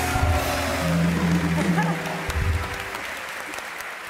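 A studio audience at a Turkish television talk show breaks into steady, full applause that carries on for several seconds and then tapers slightly.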